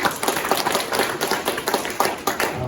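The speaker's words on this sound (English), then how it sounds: "Please give him a round of applause." A small meetup audience at an agile software talk claps for an introduced speaker, a brief patter of individual hand claps, close and moderately loud, lasting under three seconds.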